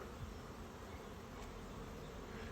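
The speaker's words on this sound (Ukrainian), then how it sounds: "Бджола активно понесла нектар. Прилітає важка, пилок, нектар." Continuous buzzing of honeybees in flight, carrying nectar and pollen, a dense, steady hum from many insects close by, with no voices.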